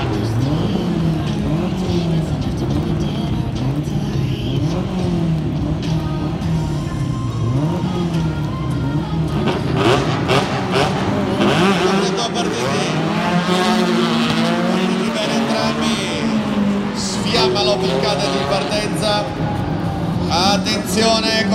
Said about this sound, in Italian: Numero 10, Claudio Ferron con la sua Opel Kadett GTE. Allo start.